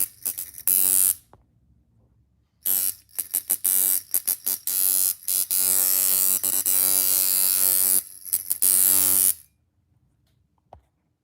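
A black and gray tattoo machine runs in long, loud, steady buzzing stretches, switched on and off several times with short gaps of near silence between bursts.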